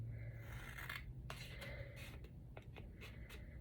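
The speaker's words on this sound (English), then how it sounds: "I'm gonna take my bigger scissors for this and just trim it off so that everything's even" Large scissors snip and trim a scrapbook paper border, a few short crisp cuts and paper rustles close by with no talking.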